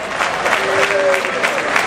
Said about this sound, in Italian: Un grosso applauso a Roberto La Malfa